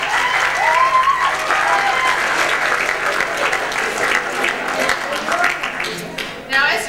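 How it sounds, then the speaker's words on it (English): A crowd at a 2002 school ball breaks into sustained applause, dense clapping from many hands filling the room at a constant level for several seconds. "Just give them a round of applause."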